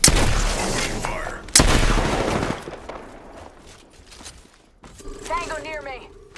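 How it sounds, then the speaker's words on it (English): Gunfire in the video game Apex Legends rings out as two loud bursts of shots, each trailing off, followed by quieter mechanical sounds and a brief tonal effect. "Opening fire."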